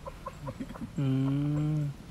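A short burst of clucking followed by one sustained, tonal squawk held for about a second, fairly close and clear.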